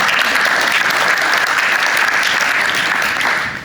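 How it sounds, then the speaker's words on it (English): An audience at a medical association president's speech applauds itself, a loud, dense, continuous wall of clapping from a large crowd that stays even and only starts to fade at the very end, with no talk over it. "so give yourselves a round of applause"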